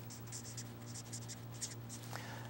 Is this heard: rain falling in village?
no